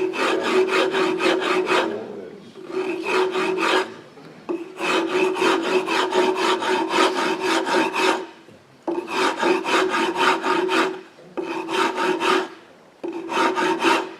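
A rasp works over carved wood to smooth away gouge marks, making long, loud, gritty back-and-forth strokes in bursts separated by short pauses.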